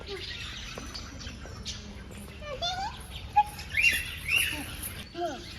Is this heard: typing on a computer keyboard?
no